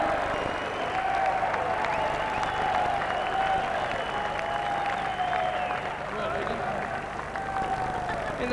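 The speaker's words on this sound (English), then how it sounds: "Big clap." Crowd clapping and cheering at a rugby league grand final as a departing back-rower plays his last game, a broad sustained roar with a public-address voice carrying over it.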